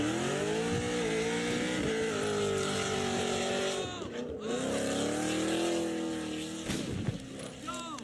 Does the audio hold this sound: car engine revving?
yes